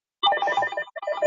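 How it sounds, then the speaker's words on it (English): A telephone rings briefly in a quiet room, a bright trilling electronic tone that starts after a short silence, pauses for a beat, and picks up again, loud and close with nobody talking over it. "I probably have to answer the phone"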